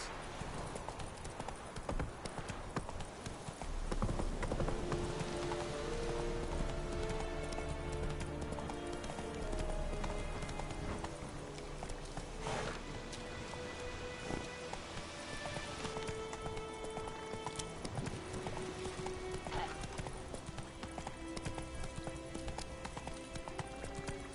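Roach, Geralt's horse in The Witcher video game, gallops with a steady, rapid run of hoofbeats, close and continuous under a layer of orchestral game music.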